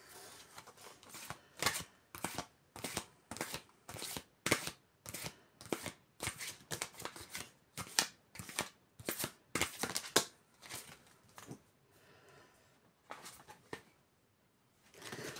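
Tarot cards are shuffled and laid down in a quick, irregular run of soft riffling slaps and taps, close and fairly quiet, with no talking, ending in a brief lull and a final flick.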